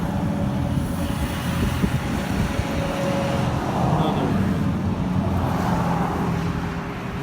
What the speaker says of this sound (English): Another lovely truck that goes by that we can hear.